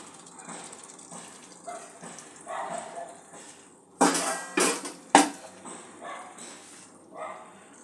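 Spice-washing water is poured into a pan of mutton and potato curry, with a few short, loud splashing gushes and sizzles standing out over a low kitchen background.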